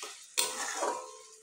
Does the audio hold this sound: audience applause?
no